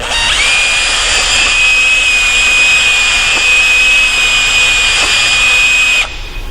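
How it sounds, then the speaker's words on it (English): A power sander spins at low speed inside the block heater cavity of a Bobcat machine's engine block, giving a loud, steady, high motor whine that holds for about six seconds and then cuts off. "While rotating on low speed setting, move the sander up and down the length of the cavity for about 5 to 10 seconds."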